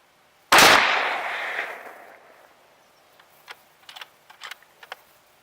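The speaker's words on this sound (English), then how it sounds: "I'm also trying to spread the shots out a little bit so they don't all hit the hood in the same place" A .223 rifle fires 55 grain FMJ rounds at a car hood set 300 yards out, giving one loud, sharp shot with a long decaying echo, followed by a scatter of faint distant clicks and pops.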